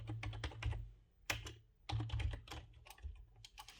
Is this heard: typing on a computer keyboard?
yes